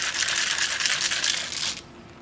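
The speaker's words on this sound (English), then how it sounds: "Shake our martini so it's nice and cold." Ice rattles rapidly inside a cocktail shaker as a brandy, sour mix and Cointreau martini is shaken, a loud, dense clatter that stops abruptly near the end.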